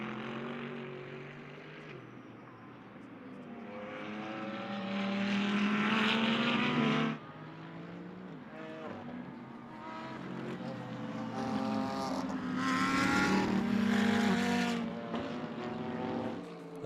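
GT3 race cars, including an Audi and a Ferrari, racing at Indianapolis, their engines droning and rising in pitch as they pass, a steady roar of several cars with no talk.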